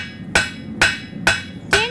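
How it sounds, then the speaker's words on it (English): Hammer striking hot iron being forged into handheld crosses, four sharp ringing blows at a steady, unhurried pace, each clang loud and close with a short metallic ring after it. "turning hot iron into handheld crosses in honor of his wife, Rachel,"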